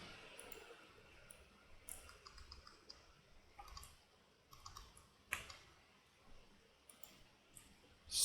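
Computer mouse clicking while working in ECU tuning software, a scattering of faint, sharp, isolated clicks spread irregularly over a quiet room hiss.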